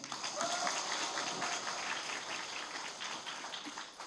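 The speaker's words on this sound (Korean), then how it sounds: "마루노조의 최우영 위원장님 박수로 모시겠습니다." Fairly quiet applause from an audience at a book launch event, a sustained patter of many hands that continues evenly and fades slightly near the end, with faint room murmur beneath.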